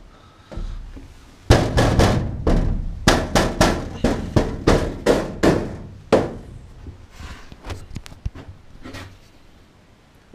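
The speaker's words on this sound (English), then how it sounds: "that wall's still got a bit of a rattle to it." Repeated knocks on a school bus wall panel, freshly attached with Sikaflex, land as a run of loud, hollow thumps with a slight rattle, uneven in pace and close by.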